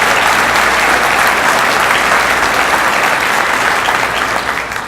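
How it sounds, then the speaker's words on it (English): Loud, dense applause from a civic audience at a city leadership address, steady and continuous for about five seconds before easing slightly at the end. "Could you give the Leadership Lincoln crowd a nice round of applause?"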